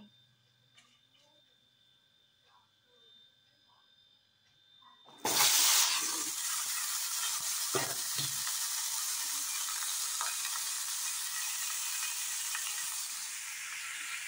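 Vegetables dropped into hot oil seasoned with panch phoron in a pan with fish, bursting into a loud sudden sizzle that then holds as a steady close frying hiss, after a quieter opening with faint kitchen clatter.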